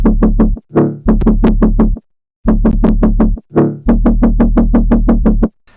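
A dry jump up drum and bass bass patch, unlayered, plays a loud repeating pattern of deep buzzy stabs and sustained growls with short pauses between phrases, heard alone.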